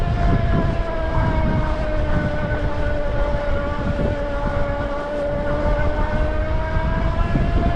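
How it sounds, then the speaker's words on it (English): GoTrax F5 fat-tire folding electric bike with its hub motor whining steadily while climbing a hill, a thin tonal whine held under constant loud wind and road rumble, with no talking. "I'll let you hear how the motor sounds as I climb."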